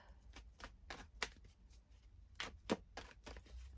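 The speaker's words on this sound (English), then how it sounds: "I just shuffled the cards" Tarot cards riffle and snap in a series of short, crisp bursts, quiet and close, with soft pauses between shuffles.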